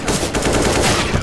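Rapid automatic gunfire from a tactical shooter video game, with dense overlapping shots and bursts filling the whole short moment at a loud, steady level near the player.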